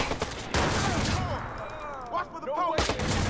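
A heavy gun firing in the Watch Dogs video game: loud, dense bursts of gunfire at the start and end, with quieter stretches of chirping, warbling tones between them.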